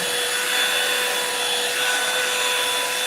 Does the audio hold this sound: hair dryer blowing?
yes